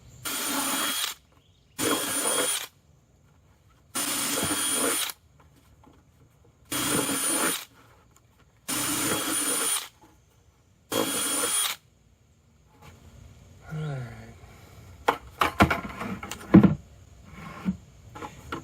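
A power drill bores 5/16 side holes into a plastic laundry bucket in six separate bursts of a few seconds each, close and loud, followed by quieter handling clatter and knocks.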